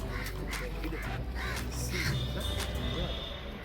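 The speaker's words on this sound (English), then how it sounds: "Birds in the tree." Crows caw repeatedly from a tree at the Lotus Temple in Delhi, several harsh calls in quick succession at moderate distance, mixed with outdoor crowd murmur and some talking nearby.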